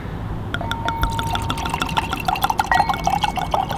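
Turkish red wine, a Kalecik Karası from Cappadocia, is poured into a glass: a steady, close liquid stream with splashing and trickling that rises in pitch as the glass fills.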